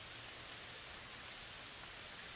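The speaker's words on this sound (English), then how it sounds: "Notice how steady and rhythmic the rainfall sounds." Steady, even rainfall fills the space with a dense, continuous hiss of drops, unbroken and constant throughout, with no voices.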